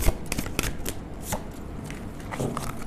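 Tarot cards are shuffled by hand in quick riffling and slapping bursts, close and fairly loud, with short pauses between them.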